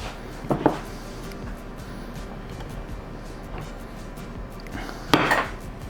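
Occasional metallic clunks and light knocks of a greased pastry pan being handled as pâte sucrée dough is pressed evenly around it, two louder bumps over quiet kitchen background.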